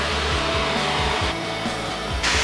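A MAPP gas torch burns with a loud, steady roaring hiss, close and unbroken throughout.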